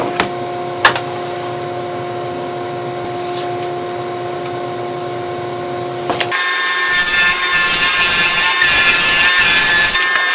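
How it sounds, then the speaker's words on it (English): A table saw ripping a wooden board down to a 5-inch width: a quiet hum and a few knocks, then the saw suddenly roars in with a loud, steady, whining cut. "I'm going to cut this down to 5-inch width."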